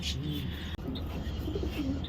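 A pigeon held in the hand gives soft, low, rolling coos, several short phrases close by, with a quiet background and a brief handling bump.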